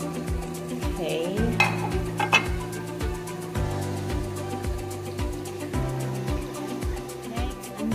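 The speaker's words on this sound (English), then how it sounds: "You just mix all the ingredients like this." Pasta salad ingredients being stirred and mixed in a bowl, with regular scraping strokes repeating roughly twice a second at close range, steady and unhurried.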